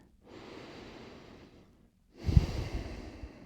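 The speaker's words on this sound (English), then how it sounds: "take an easy breath in and out here" Two slow, easy breaths from a person resting in a yoga child's pose: a soft, steady inhale lasting over a second, a pause, then a fuller, slightly louder exhale with a gentle huff.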